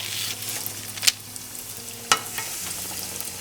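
Malasadas, Hawaiian-style donuts, frying in hot oil with a soft steady sizzle, broken by two sharp brief clicks.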